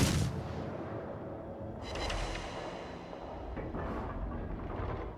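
Naval guns on a warship in a naval combat game fire high-explosive shells, heard as faint, muffled booms with rolling rumbles at about 0, 2 and 4 seconds, under a continuous low hum of sea and engines.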